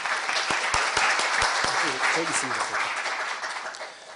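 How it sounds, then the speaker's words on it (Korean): Audience applause after a professor's lecture at a leadership seminar, a dense wash of clapping with a few sharper near claps and a voice briefly under it, fading toward the end. "정동일 교수님께 다시 한번 박수 부탁드리겠습니다."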